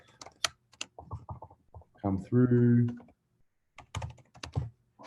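Typing on a computer keyboard to enter an email address, a run of sharp clicks and taps starting and stopping around a man's speech.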